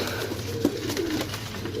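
A few pigeons in a loft coo softly in short, low throaty notes, close by over a faint steady background, with no talking.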